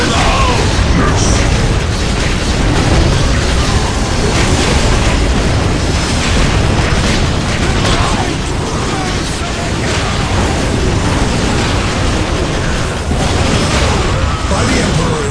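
Loud, continuous battle din from the real-time strategy game Dawn of War: Dark Crusade, with booming explosions and bursts layered over dense rumbling combat noise throughout, and unit voice lines mixed in.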